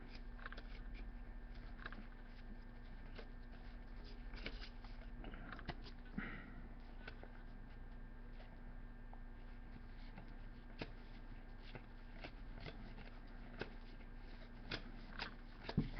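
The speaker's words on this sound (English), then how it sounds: "I need to go through here real quick and pull out my Jordan cards" Someone flips through a stack of 1998-99 Fleer Tradition basketball trading cards to pull out Jordan cards, producing soft papery flicks and light taps over a quiet steady hum.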